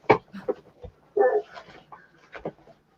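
A dog runs into a room and reaches people: close, excited whimpers, whines and snuffling panting in short bursts with brief pauses between them.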